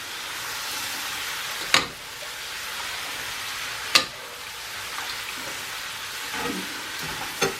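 Lean bacon frying in a pan for carbonara gives a continuous crackling sizzle, close and even, with a few sharp clacks of a utensil against the pan.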